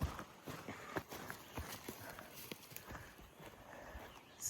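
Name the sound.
cows walking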